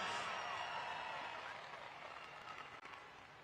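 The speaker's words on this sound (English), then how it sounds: "Give all these drivers a round of applause" Arena crowd at a Monster Jam event applauding the drivers, a broad continuous wash of clapping and cheering that starts loud and slowly fades.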